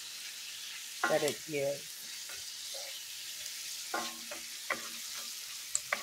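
Green beans and bell peppers fry in a seasoned cast iron skillet, giving a steady low sizzle with a few louder stirring scrapes, while a person speaks briefly near the start.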